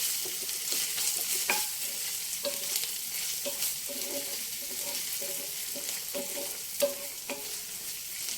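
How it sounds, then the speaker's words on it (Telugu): Ginger and garlic paste frying in a pan, a steady close sizzle with scraping stirs and small ladle knocks running throughout, no voices. "కొంచెం వేగాలి, వేగుతూ ఉంటుంది."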